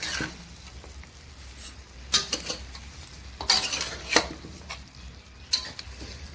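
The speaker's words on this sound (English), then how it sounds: "Let's take a stir." A spoon stirs beef and barley soup with kale in a cooking pot, giving intermittent clinks and scrapes against the metal with soft liquid swishing, close and fairly quiet, with no talk.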